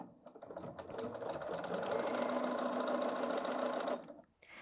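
A Bernina 770 QE Plus sewing machine stitches steadily at reduced speed, a close, even mechanical whir running for about four seconds before stopping.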